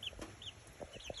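Small chickens clucking softly on a rainy day in Cornwall, a few short faint clucks scattered over steady background noise with no talk.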